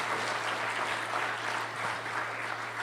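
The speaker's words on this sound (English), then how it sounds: "Let's give him a round of applause" An audience at a technical conference applauds steadily, a dense wash of clapping hands sustained evenly throughout.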